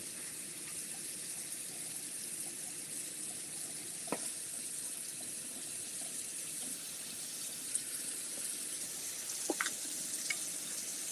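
A kitchen water tap runs in a steady, faint hiss, with a few small clicks and knocks scattered over it.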